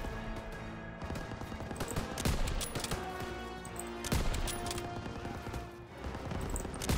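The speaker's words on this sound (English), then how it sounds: "कहाँ से आ रही है भाई गन? तेरी गोलियाँ कहाँ से आ रही है?" Dense gunfire from the Call of Duty WW2 Normandy campaign mission, with sustained automatic bursts and heavy impacts layered over battle noise, loud and continuous throughout.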